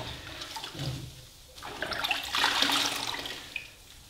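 A plastering sponge rinsed out in a bucket of water while plastering door and window reveals, giving close sloshing, splashing and dripping that swells in the second half, with no talk.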